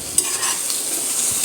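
Tomatoes and slit green chilies fry in a pan for a home-style river fish curry, giving a steady close sizzle with a light stirring scrape and no talking.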